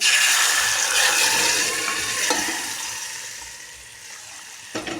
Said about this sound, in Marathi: ती शिजवलेली डाळ वगैरे आहे ना सगळी यामध्ये टाकायची खूप मुलं आवडीनं खातात ही डाळ आता आपण टाकून घेऊया